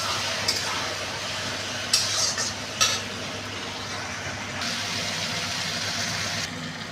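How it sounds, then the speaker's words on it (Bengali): Spices fry and are stirred in a pan with a little hot water while cooking mung dal with rohu fish head, a steady close sizzle broken by a few scraping stirs and clinks. "তো মশলা ভাজা হয়ে গেছে।"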